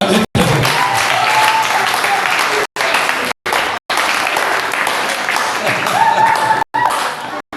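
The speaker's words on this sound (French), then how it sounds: "Est-ce qu'on va acclamer?" Church congregation clapping and cheering, a sustained crowd applause broken by several brief cuts to silence, with faint voices mixed in.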